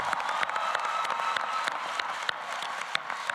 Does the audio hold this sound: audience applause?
yes